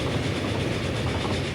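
Loud, close rumble of a train passing in Transport Fever 2, a continuous roar of wheels on rails without pause.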